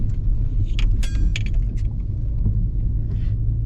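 An empty truck rumbles past a car while overtaking on a slippery, wind-swept snowy road, its low engine drone steady under faint jangling and rattling from inside the car.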